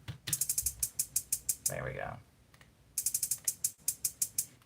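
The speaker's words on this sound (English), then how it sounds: "The hi-hats just are going to sound like this." Fast, crisp electronic hi-hat pattern ticking in rapid bursts with a short gap, fairly quiet, and a voice speaking briefly during the pause.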